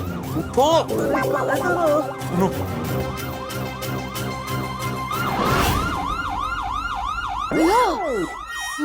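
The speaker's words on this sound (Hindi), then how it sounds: "पुलिस सायरन की आवाज है।" A police siren wails in repeated rising and falling sweeps, loud and close, with a second siren overlapping and voices talking underneath.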